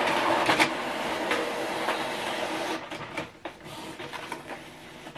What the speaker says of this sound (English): So what it's doing right now is printing.